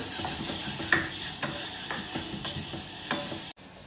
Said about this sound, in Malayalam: ഇഞ്ചി, വെളുത്തുള്ളി, പച്ചമുളകും എല്ലാം ഒന്ന് ആ പച്ചമണമെല്ലാം മാറി വരുന്നത് വരെ ഒന്ന് ഇളക്കി കൊടുക്കാം.